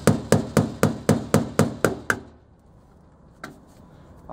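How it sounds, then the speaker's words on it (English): Hammer blows piercing a small hole in sheet metal: nine sharp, evenly spaced metallic taps in quick succession, close and fairly loud, then near-silence with one faint knock afterward. "So I've pierced the metal, and I want a really small hole"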